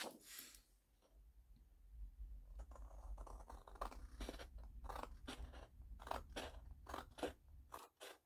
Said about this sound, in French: je vais le faire au ciseau